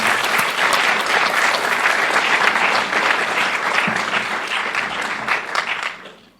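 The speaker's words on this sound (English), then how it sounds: "Let's give her a round of applause." Audience applause at an Open Mind screening and panel event for the film Anxious Nation, a dense steady clapping that stays loud for about six seconds, then fades out.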